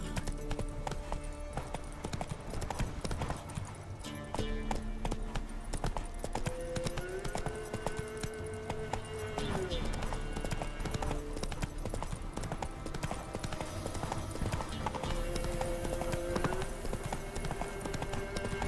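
Horse hooves clip-clop steadily at a trot in The Witcher 3, a dense rhythmic clatter of hoofbeats close up, layered over game music and ambience, with a brief voice along the way.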